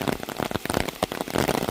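Rain falls steadily on a surface, with dense, close patter and individual drops pattering in an irregular, continuous spread throughout.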